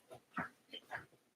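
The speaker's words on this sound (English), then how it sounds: "I'm gonna let my dog out." A small dog whimpers softly: a few short, faint whines and breathy cries spread over a brief moment, with no one talking.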